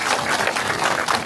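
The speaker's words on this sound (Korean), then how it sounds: "끝으로 김호정 시의원님의 노고에 다시 한번 큰 박수를 부탁드리겠습니다." Brief burst of audience clapping at a city council member's activity report event, loud and close, a dense patter of hands lasting only a moment.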